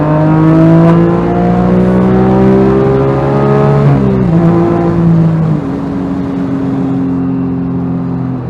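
A 2011 Porsche GT3 RS engine revs hard toward its 8,500 RPM limit, a loud, close, sustained harmonic howl that climbs, dips briefly, then holds steady, with no talking.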